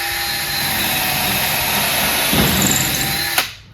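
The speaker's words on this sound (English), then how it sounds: "I'm going to drill a hole in this just in regular drill mode first." A Ryobi 18V hammer drill in regular drill mode runs at a steady high whine while boring a hole, loud and close, then winds down abruptly at the end.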